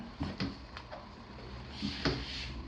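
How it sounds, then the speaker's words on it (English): Cabinet doors in a newly built house interior open with a few soft wooden clunks and light knocks, spaced irregularly and fairly close, with no talking. "Are these doors supposed to open like that?"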